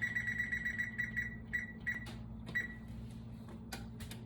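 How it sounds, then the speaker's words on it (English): An oven timer is set for a veggie pizza baking at 350 degrees: a rapid train of short, faint electronic beeps, then a few slower button beeps and clicks over a steady kitchen hum, with no talking. "It says 12 minutes, so I'll set the timer."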